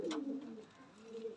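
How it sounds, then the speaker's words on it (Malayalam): Pigeons kept for training coo softly outdoors, a low rolling call that dips and then rises again, faint against steady background hiss. "നമുക്ക് രണ്ട് പ്രാവളെടുത്ത് വെളിയിൽ"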